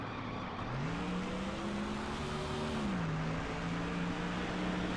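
A race car engine in NASCAR Thunder 2004 at New Hampshire, droning steadily and climbing in pitch, briefly dropping at a gear change, then settling into a sustained loud note with no talk.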